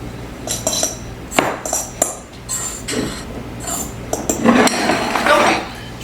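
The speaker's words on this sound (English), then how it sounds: "we're going to add about 1/3 of a cup of ranch dressing. So I'm going to go ahead and stir this up" Ranch dressing mixture stirred in a bowl with a utensil, giving scraping and clinking strokes that come in irregular bursts close by against a low background hum.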